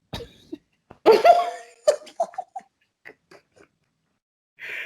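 A person coughs hard once up close, followed by a few smaller sputters, throat noises and laugh-like bursts, then quiet and a faint hiss at the end.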